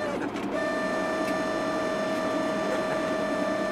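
A car heater fan makes a steady mechanical whine with a constant tonal hum throughout, droning inside the vehicle cabin, with no one speaking.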